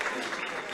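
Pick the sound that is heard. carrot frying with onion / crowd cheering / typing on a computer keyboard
crowd cheering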